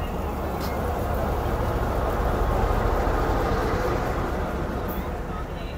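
Karakoram Express passenger train with a very long rake hauled by two locomotives in push-pull mode, heard as a steady, loud broadband rumble of running rails and wagons with a low drone throughout, no distinct clacks.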